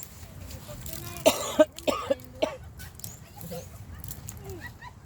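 A few sharp coughs in quick succession, fairly close, followed by quieter background noise.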